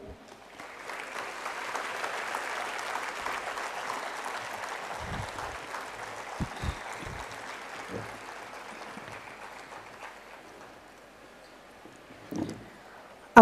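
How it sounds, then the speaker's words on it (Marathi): Audience applause at a science careers talk welcoming the chief guest, a dense steady clapping that swells, holds, then thins out with a few scattered claps near the end. "आपण आपल्या प्रमुख पाहुण्यांचं जोरदार टाळ्या वाजवून स्वागत करूया."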